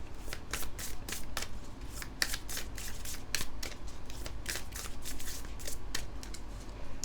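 A tarot deck is shuffled continuously up close, giving a brisk run of crisp card flicks and slaps in an even rhythm for several seconds, with no one speaking.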